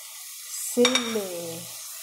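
Potatoes frying in a pan with salt and chili are stirred, a short scrape and clink of a utensil over a soft sizzle, close and brief.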